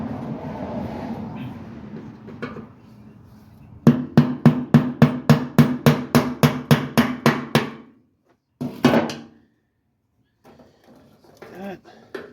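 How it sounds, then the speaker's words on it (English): A hammer drives a screwdriver against the fuel pump lock ring on a 1993 Ford Bronco, a run of about fourteen sharp metallic knocks in quick steady rhythm, close and loud, with a voice before and after. "now I gotta take a screwdriver and a hammer and knock this little ring out"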